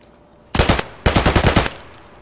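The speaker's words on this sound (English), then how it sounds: "they're shooting" Automatic gunfire in the video game Escape from Tarkov comes as two loud close bursts, a short one of about four shots and a longer one of about eight, with a fading tail.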